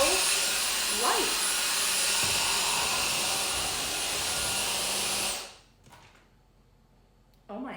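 A cordless vacuum cleaner runs with a steady high-pitched whine and airy rush for about five seconds, then switches off, leaving near quiet with a few faint handling sounds.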